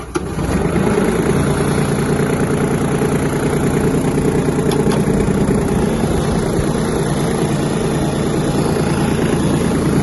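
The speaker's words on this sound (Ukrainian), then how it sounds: "давайте присядемо та заведемо даний міні-трактор" A Kubota GT-21 mini tractor's diesel engine idles steadily and loudly up close, a continuous clattering drone with no pauses.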